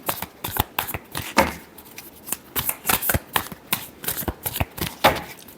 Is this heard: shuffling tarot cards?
yes